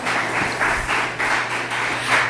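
Steady applause from the audience at a Pacifica city council meeting, a continuous wash of many hands clapping, fairly close and unbroken throughout.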